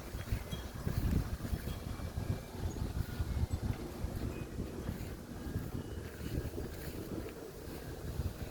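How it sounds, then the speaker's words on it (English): Strong wind gusts roar loudly and continuously across the microphone outdoors, surging hardest in the first seconds and staying heavy and rumbling throughout, with no voices. "Big, huge gust."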